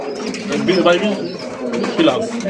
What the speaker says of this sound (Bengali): 22+ কবুতর আছে